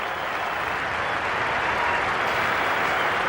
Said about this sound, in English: He acknowledges warm applause from people who much respect Ricky Ponting, captain-elect of Australia.